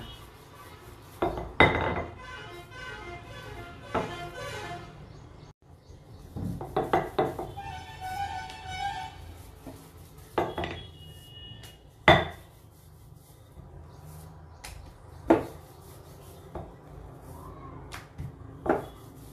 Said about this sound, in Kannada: ಈಗ ಇದನ್ನು ಲಟ್ಟಿಸ್ಕೊಳ್ಳೋಣ ಸ್ವಲ್ಪ ದಪ್ಪಕ್ಕೆ ಲಟ್ಟಿಸ್ಕೊಳ್ಳೋಣ